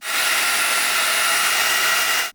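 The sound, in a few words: handheld vacuum cleaner running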